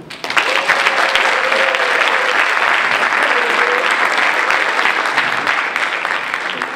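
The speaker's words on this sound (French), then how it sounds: "Allez, on l'applaudit." An audience at a startup app pitch competition breaks into sustained, loud applause as a team comes on stage, with dense steady clapping and a few faint voices within the crowd.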